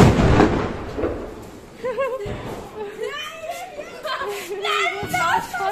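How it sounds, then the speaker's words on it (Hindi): Diwali firecrackers bursting outdoors after evening puja, a loud crackling burst at the start followed by scattered pops and bangs while people talk and call out throughout. "यहाँ पटाखे की आवाज़ आने वाली है बहुत अच्छी"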